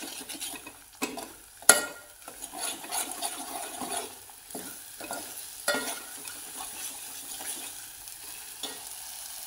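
Spoon stirring black-masala amti curry in a pan, a Maharashtrian festive dal curry, with scraping and sizzling in irregular strokes and a few sharper knocks against the pan, close up with no talking.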